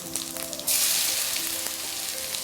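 Cumin seeds crackle steadily in hot oil, then ginger drops in and the sizzle swells into a louder, fuller hiss that holds to the end.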